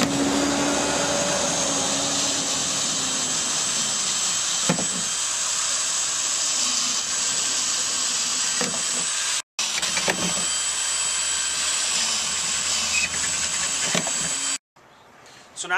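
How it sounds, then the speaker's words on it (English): A power drill fitted with a 5/8 inch bit boring holes into a plastic worm compost bin, a sustained whining drone with brief pauses and a cutoff near the end, fairly close. "So now I've drilled the holes."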